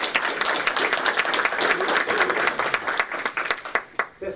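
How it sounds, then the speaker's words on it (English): Audience applauding at a school board meeting, a dense, steady round of clapping from a room full of people that thins out into a few scattered claps at the end. "Let's have another round of applause for Jake"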